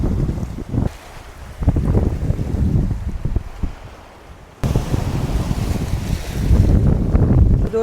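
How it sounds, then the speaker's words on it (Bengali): Sea waves at Guliakhali beach surge and wash in close, mixed with strong wind buffeting the microphone, with a brief lull before the roar picks up again. "সাগরের ঢেউ"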